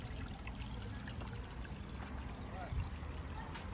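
Creek water trickling steadily in a park, a soft continuous wash of flowing water with low rumbling noise underneath, heard outdoors at moderate distance with no talking.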